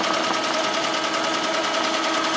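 A sewing machine stitches a sunflower tote bag in a steady, continuous mechanical whir with fast regular needle ticking, close and alone throughout.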